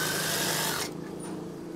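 A sewing machine stitching curtain fabric whirs steadily and loudly at close range, then stops abruptly partway through, leaving a softer lingering mechanical hum.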